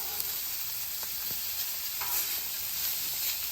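Smoked meats sizzle steadily on a hot griddle, a continuous broadband hiss with a few faint scrapes and clicks, fairly quiet and close, with no talking.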